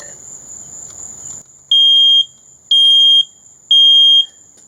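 A smoke alarm sounds three loud, evenly spaced high-pitched beeps, each about half a second long, with a steady faint tone underneath and no talking.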